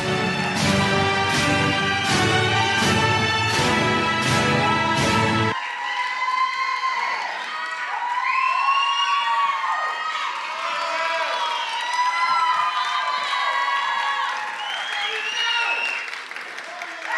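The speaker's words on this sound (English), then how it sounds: "How about a big round of applause for the class of 2025?" Graduation audience applauding the graduating class, a sustained burst of clapping and cheering; the opening seconds carry loud music before the crowd noise continues alone.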